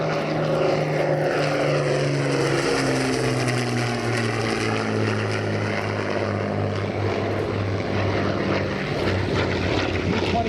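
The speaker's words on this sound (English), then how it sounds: "Listen to the sound of these four Merlin engines." Four Rolls-Royce Merlin piston engines of a WWII Lancaster bomber drone overhead in a continuous, throbbing roar with slowly shifting pitch, steady and fairly loud throughout.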